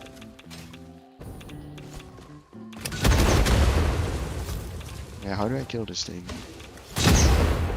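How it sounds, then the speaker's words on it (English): Thrown dynamite in Satisfactory 1.2 goes off in a loud, close boom, followed a few seconds later by a second heavy blast, while someone talks over the game sounds. "Did he just hit my explosion mid-air?"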